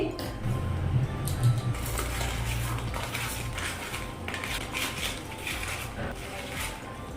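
Cut pointed gourd pieces are tossed and rubbed with salt and turmeric in a bowl, giving busy close clinks, scrapes and squelchy rustles with a low hum underneath, no voices.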